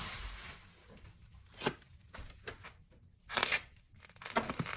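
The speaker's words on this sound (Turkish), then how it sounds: "Şimdi de tavukları doğrayacağız." Irregular bursts of knife cuts on a board as chicken is chopped, several sharp chops spaced unevenly, close by with crinkly handling noise between them.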